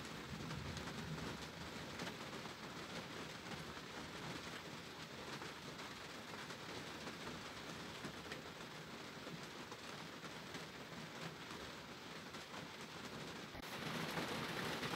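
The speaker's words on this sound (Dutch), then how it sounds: "Het gaat weer steeds harder regenen." Rain getting heavier patters as a dense, steady hiss on surfaces and swells louder near the end, with no talking over it.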